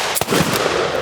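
Sharp gunshots at a shooting range booth during a Palmetto State Armory event, a few quick close reports over a noisy outdoor background.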